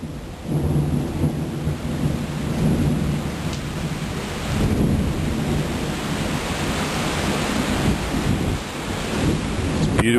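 Heavy rain hammers down during a thunderstorm at a porch, a dense, loud, continuous wash of water with low thunder rumbling beneath it and no voices.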